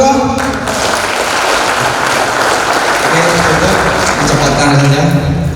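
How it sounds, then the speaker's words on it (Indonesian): An audience applauding for a manager at a gathering, a dense, steady burst of clapping from a crowd that stays loud and continuous, with a voice speaking over it. "Aplaus yang meriah"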